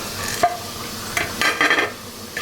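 Cinnamon, cloves, cardamom and black pepper being ground produce a few short, close scraping and crunching strokes separated by brief pauses, with no talk.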